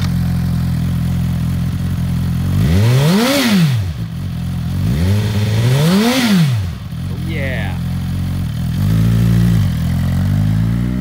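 A used 2018 Suzuki GSX-R1000 superbike with ABS idles close by, revved twice in rising-and-falling sweeps before settling back to a steady loud idle, with a brief clatter between revs.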